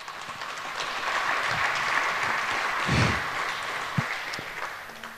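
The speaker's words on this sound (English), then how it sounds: "Give them a warm applause" Applause from an audience at a hacker conference talk on USB device security, broad and sustained clapping from a crowd in a hall for about five seconds.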